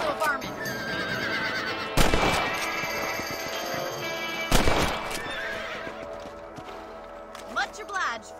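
Horses whinny loudly and hooves clip-clop in the Western video game Red Dead Redemption, with sharp gunshot-like bursts and a character voice speaking over the action.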